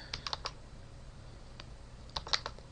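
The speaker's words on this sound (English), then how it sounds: "Double click." A computer mouse gives quiet, sharp clicks in quick pairs and small clusters, with short gaps between them against a faint, steady background hiss.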